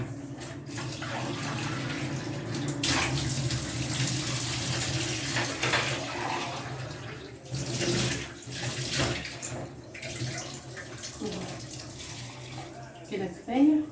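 Water runs into a cooking pot for a bean stew with onion, a continuous splashing pour lasting several seconds and then trailing off into scattered clinks, loud and close.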